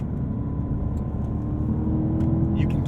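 A Cadillac CT5-V Blackwing engine holds a steady, loud drone at full throttle inside the car, with someone talking over the engine noise.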